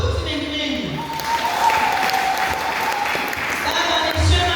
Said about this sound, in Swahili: Makofi mengi mengi